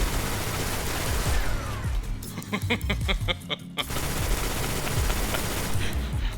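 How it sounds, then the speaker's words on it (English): Rapid automatic gunfire from a 900 RPM auto rifle in Destiny 2, a fast evenly spaced burst of shots standing out briefly above a dense bed of other game combat noise and booms. "this is what a 900 RPM auto rifle looks like"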